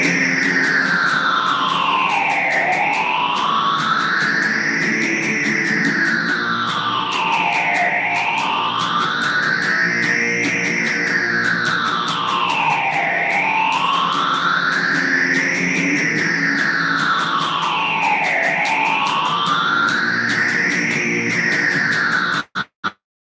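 Electric guitar played through a distortion and modulation effect, sweeping up and down in slow repeating waves of about five seconds, loud and continuous, then cutting off abruptly at the end.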